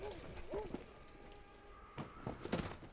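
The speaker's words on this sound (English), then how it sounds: "The princess heard a fearsome growl." A hellhound from Layers of Fear growls and whimpers in short canine snarls, faint and close, under a narrating voice.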